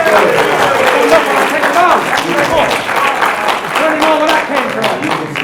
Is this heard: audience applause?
yes